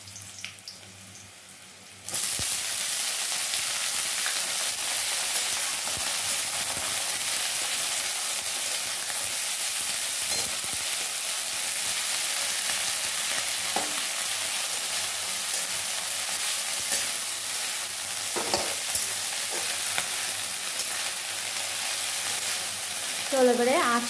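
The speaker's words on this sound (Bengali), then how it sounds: "এবার দিয়ে দেবো কেটে রাখা ধুয়ে রাখা শাকগুলো।" Washed, chopped greens drop into hot, lightly browned oil and burst into a loud, steady sizzle that holds close and even throughout, with a few faint clinks of a utensil against the pan.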